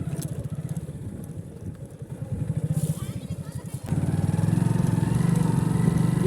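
An off-road motorcycle ridden on rough terrain, its engine putting out a pulsing, throbbing drone that rises and steadies into a louder, sustained run, close to the microphone, with people talking nearby.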